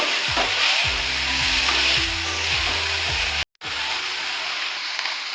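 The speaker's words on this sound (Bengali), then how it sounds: "চিংড়ি মাছটা আমার ভাজা হয়ে গেছে" Prawns frying in hot oil in a pan, a loud, close, continuous sizzle with rhythmic low stirring scrapes, briefly cut off before the sizzle resumes.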